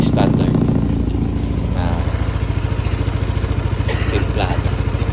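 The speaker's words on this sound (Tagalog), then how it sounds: "Pinapainit lang natin ang makina para mas maitono natin, mas maganda" A motorcycle engine runs at a steady idle while being warmed up for tuning, close and loud with a rapid rhythmic chugging and mechanical clatter, a brief voice heard over it.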